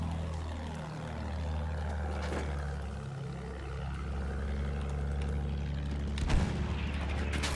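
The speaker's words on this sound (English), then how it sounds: "Oh, plane on us?" An enemy airplane in the Battlefield 1 video game drones overhead, its propeller engine a loud continuous roar that dips and swells in pitch as it passes, with a sharp boom near the end.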